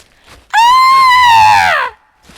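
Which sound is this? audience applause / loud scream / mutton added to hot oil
loud scream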